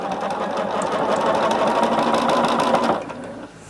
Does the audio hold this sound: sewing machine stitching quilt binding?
yes